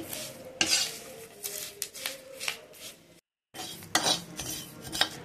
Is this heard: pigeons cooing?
no